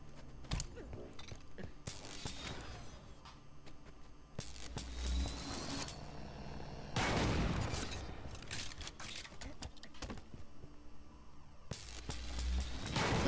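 Game weapon fire in Halo 5 comes in loud, dense bursts of shots and booms, separated by quieter stretches with mechanical clicks, while players talk over the action.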